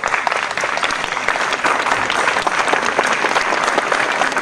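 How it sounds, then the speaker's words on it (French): Sustained applause from an audience at a Pardon evening vigil in Le Folgoët, honouring a youth group; dense, steady clapping throughout, fairly loud and even, with no voices over it. "Vous pouvez effectivement les applaudir"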